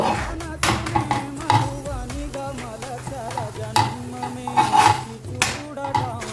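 A chapati cooks on a hot pan over a medium flame, with soft sizzling under repeated scraping, tapping and clinking of a utensil against the pan, close and irregular, while a voice talks faintly throughout.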